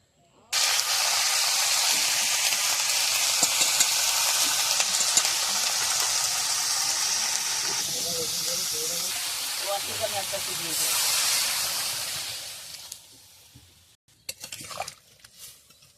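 Cauliflower and potato cook on a wood-fired stove, giving a steady, loud hiss of frying that softens toward the end with a few clinks and stirring scrapes, under occasional talk.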